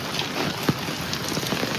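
Heavy monsoon rain pours down at night, a dense, steady patter of drops drumming on nearby surfaces with a few sharper splashes, loud and continuous with no voices.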